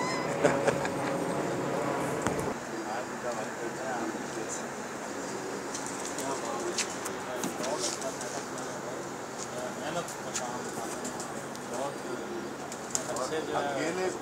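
Pigeons kept by a pigeon fancier at Khadriala cooing and fluttering, with soft coos and occasional wing flaps heard through a steady background murmur, while people talk nearby.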